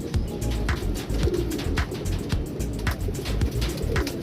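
Neel Dumba pigeons coo in a continuous low, throaty chorus, several birds overlapping in rolling pulses along with wing flutters and scuffling close by, without any talking.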